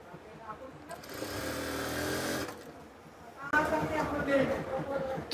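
Sewing machine stitching a zipper onto the back of a dress, a steady whirring run of about a second and a half, followed by someone speaking over faint handling noise.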